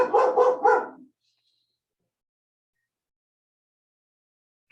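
Dogs barking in three or four rapid, fairly close barks, then silence, with a brief faint sound right at the end.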